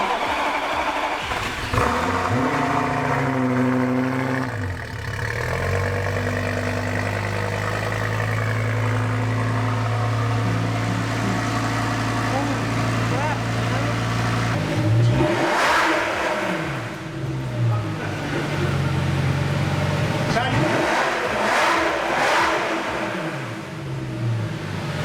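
A car that has sat unstarted for several days, its engine coming to life and then revved repeatedly, loud and close, with rising and falling surges of the engine note over a steady idle.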